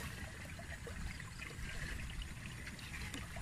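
Clean water flowing out of rice fields trickles and streams steadily and softly close by, with no talk.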